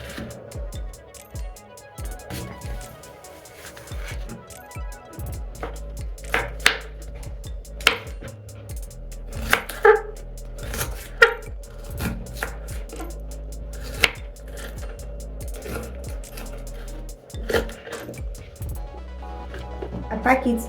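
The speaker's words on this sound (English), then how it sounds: "Next thing is to cut the onions into smaller pieces" Onions are chopped into smaller pieces with a knife on a board, a close series of sharp, irregular taps and thuds running throughout.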